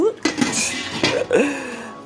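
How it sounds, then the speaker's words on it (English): Glass canning jars being lifted from a pot clink and knock against each other and the metal pot several times, sharp bright contacts close by, with some voice-like sounds mixed in. "I'll have my jars out of the pot so I can get this all put together."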